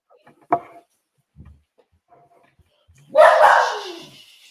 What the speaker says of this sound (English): There's my dog screaming.